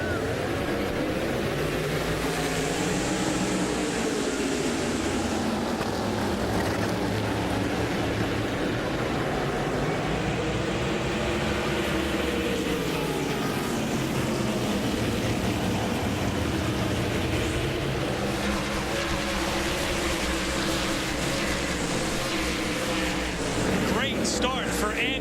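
Race cars roaring together at the start of a Saturday night race at Caraway Speedway, a dense continuous engine drone with rising and falling pitch, loud throughout while a commentator talks over it.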